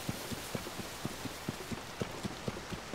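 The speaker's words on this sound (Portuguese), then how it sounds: "Já tá chovendo de novo." Steady rain hisses in the video game Zelda: Tears of the Kingdom while soft, rhythmic thuds tap along underneath at an even pace, like footsteps.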